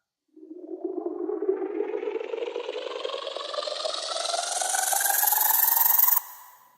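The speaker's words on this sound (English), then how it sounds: "You can take like any sound, get like weird white noise out of it" A modulated white noise sound effect sweeps steadily upward in pitch for about six seconds, growing brighter and louder before cutting off abruptly into a short tail.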